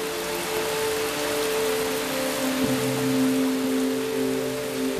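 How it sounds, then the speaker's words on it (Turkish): Heavy monsoon rain falls on the Yunnan-Guizhou plateau as a steady, dense hiss, with faint sustained musical tones underneath. "iç kısımdaki Yunnan Guizhou platosuna sık sık şiddetli yağmur yağıyor"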